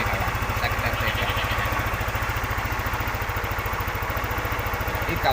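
A Yamaha NMAX scooter engine idles steadily during a starter test, a close, even low thrum with a fast regular pulse that holds for the whole stretch.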